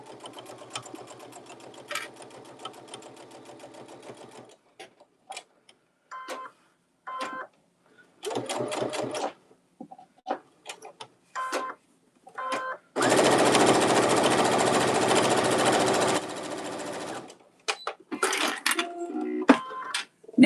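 A sewing machine runs a straight stitch down each side of a fabric bow piece at a Christmas craft demo, heard first in short stop-start bursts, then as a long steady whirring run of several seconds, with someone talking between bursts.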